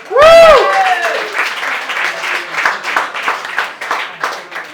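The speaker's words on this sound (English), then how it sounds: "let's applaud her as well" A loud whooping cheer opens, then an audience claps steadily, the applause gradually thinning and fading.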